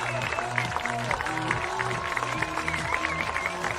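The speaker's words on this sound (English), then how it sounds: "And an excited crowd in front of us at that." An excited crowd cheers and claps in the stands at a Pella Christian vs. Sigourney high school varsity football game, a dense, steady roar with bursts of clapping and shouts throughout.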